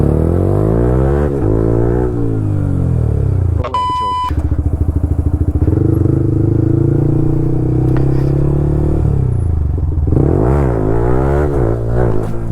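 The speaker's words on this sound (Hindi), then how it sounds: "अभी मारते हैं व्हीली।" A KTM Duke 200 motorcycle revs hard for a wheelie attempt: loud, close engine rising and falling in pitch, with a sustained high-rev stretch in the middle and a short beep-like tone, then renewed revving.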